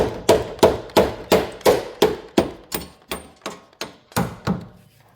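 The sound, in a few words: hammer gently tapping Jaguar XK8 front suspension part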